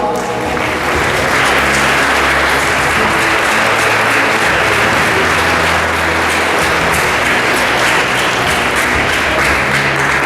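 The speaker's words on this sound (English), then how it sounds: "Round of applause. Put your hands together." A crowd applauds at a school award ceremony honouring top students, producing thick, unbroken clapping at a loud, steady level with a low rumble underneath.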